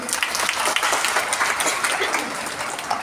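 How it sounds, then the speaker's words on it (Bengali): An audience at a children's carnival event bursts into loud, dense applause, many hands clapping together in a continuous roar for about three seconds, close and full with no speech over it. "ওর জন্য জোরে হাততালি দিই।"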